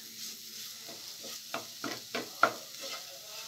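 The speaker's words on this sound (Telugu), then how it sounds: "ఇదంతా బాగా వేయించుకోవాలి తడి అంతా పోయేదాకా." A snack mixture being stirred and fried in a pan until its moisture cooks off: steady soft sizzle with a series of scraping stirs, the strokes growing sharper toward the middle, close and fairly quiet, no talking.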